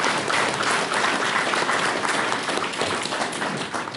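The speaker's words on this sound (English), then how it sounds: "let's have a round of applause for the..." Wedding guests at a lodge reception by a loch break into sustained applause after a speech, a dense, even wash of many hands clapping that holds steady and then starts to thin toward the end.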